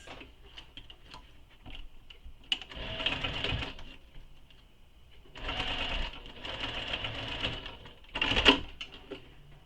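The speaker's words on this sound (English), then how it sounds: "And now we're going to baste this in place." A sewing machine bastes a strap in place on a quiver sling in three bursts of fast, whirring stitching, separated by short pauses with quiet handling noises.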